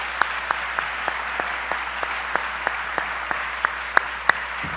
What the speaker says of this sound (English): you join me in giving a big round of applause to all these deans and professors